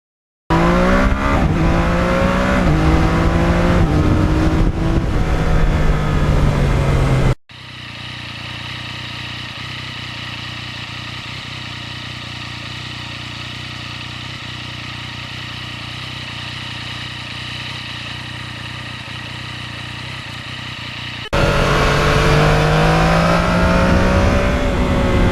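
A 2020 Yamaha MT-09 motorcycle revs loudly, its engine pitch climbing and falling. In the middle stretch the revving gives way to a steadier, quieter rush of wind and engine, then the revving returns at the end.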